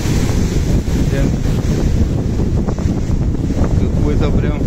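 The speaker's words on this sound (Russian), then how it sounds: "это шторм сегодня разыгрался прям не на шутку." Storm waves about three metres high pound the Black Sea shore at Divnomorskoye under strong gusting wind, a loud continuous roar of surf and wind buffeting the microphone.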